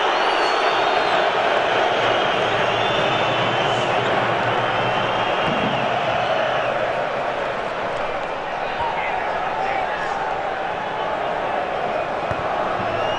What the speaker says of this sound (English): Crowd are getting restless now.